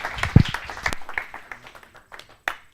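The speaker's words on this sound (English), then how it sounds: "So please give a round of applause for Kari." Audience at a talk applauding briefly, a short burst of claps at close range that quickly thins out to a few scattered ones, with some quiet shuffling.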